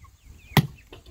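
A single sharp chop lands midway, a hard whack into a pumpkin being cut in half, with faint chicken clucks in the quiet background.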